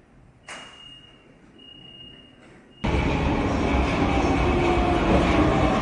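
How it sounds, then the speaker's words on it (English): A subway train: a high tone and quiet rumble, then a sudden loud roar and rattle as cars rush past close by, staying loud throughout. "Subway."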